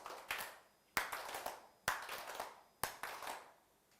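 An audience at a faculty development session claps in unison for an attendance activity, four loud synchronized claps spaced about a second apart, each followed by a short ragged tail of stragglers.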